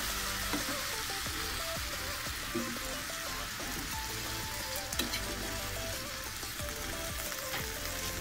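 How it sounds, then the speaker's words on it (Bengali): Cauliflower with shrimp frying in a pan, a continuous dense sizzle and crackle of oil, fairly loud and steady throughout with occasional stirring clatter. "চিংড়ি মাছ দিয়ে ফুলকপি রান্না করে নিচ্ছি।"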